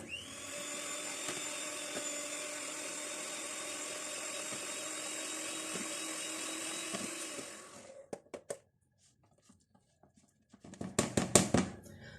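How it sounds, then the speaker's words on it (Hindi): Electric hand beater whirring steadily through salted butter for a cake, a loud continuous motor hum for about eight seconds, then stopping and leaving scattered clicks and knocks of the beaters against the bowl. "सबसे पहले जो मक्खन हमारे पास है इसको बीट करना शुरू करते हैं"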